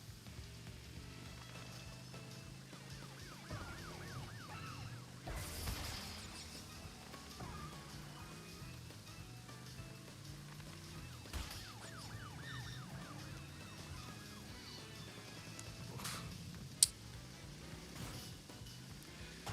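Wailing police car sirens sweep up and down in the video game Crash Bandicoot 3: Warped, layered over racing game music and engine hum, fairly quiet and continuous.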